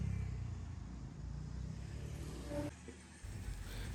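A Jeep Rubicon's engine rumbles steadily as it drives past close by on a mountain road, a deep continuous road noise with a brief dip near the end.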